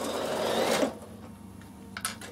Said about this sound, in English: I'm just going to run along the edge and I'm just going to stitch this down.